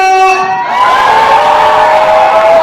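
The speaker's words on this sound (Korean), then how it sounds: "내빈 여러분, 왼쪽, 오른쪽, 소리 질러!" Wedding guests at a Yeongdeungpo wedding hall roar together in a loud, sustained burst of cheering and shouting, a dense crowd of voices swelling after a short lead-in and holding steady to the end.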